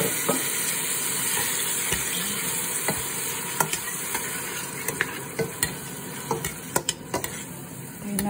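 Tomatoes and shrimp frying in a pan after something has caramelized, a loud steady sizzle broken by frequent sharp clicks and scrapes of stirring that grow busier toward the end, close by with no speech.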